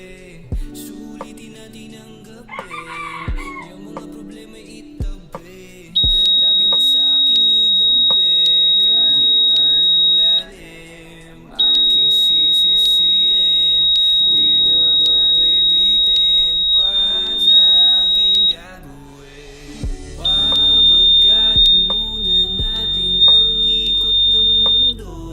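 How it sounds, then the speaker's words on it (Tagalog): A steady high-pitched electronic buzzer tone, driven by a transistor switching circuit, sounds in long sustained stretches, stopping and restarting several times, loud against quieter background noise. "So as you can see, our buzzer is working."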